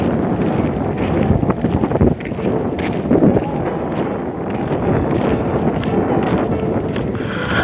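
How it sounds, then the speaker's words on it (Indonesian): Heavy wind roars and buffets straight into the microphone outdoors at salt evaporation ponds, a loud continuous rumble that swells and dips without a break. "Nggak ngerti anginnya kedenger enggak ya."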